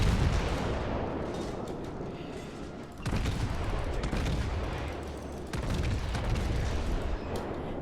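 Battleship main-gun salvos firing in World of Warships, booming blasts at about 3 and 5.5 seconds over a continuous rumbling roar of gunfire and distant explosions, with no talk.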